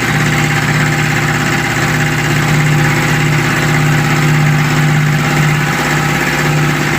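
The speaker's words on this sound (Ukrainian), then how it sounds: "Робить не сильно голосно, як, бо є такі компресори, що прям втриматися не можна" An AL-FA ALC150-2 air compressor with a 150 L tank and 3.8 kW motor runs steadily, a constant loud motor drone with a humming vibration and no pauses, heard close up and alone.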